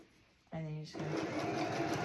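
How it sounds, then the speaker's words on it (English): A sewing machine stitches along the middle of a pair of shorts, a steady close whir that starts abruptly and runs about a third of a second before the fabric noise continues under a low background. "we're going to pull that out and then just sew along in the middle"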